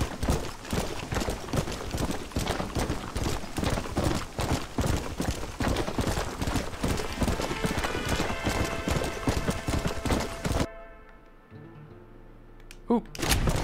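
Horse hooves clip-clop at a fast, steady gallop in the Red Dead Redemption video game, loud and continuous for most of the stretch, then cutting off into near quiet with a brief sound at the end.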